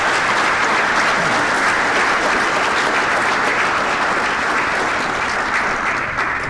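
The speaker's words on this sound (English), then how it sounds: "How about a nice round of applause for our" Steady, loud applause fills the hall as an audience claps for sports hall of fame inductees at a school-district awards ceremony, dense and continuous throughout before tapering slightly at the end.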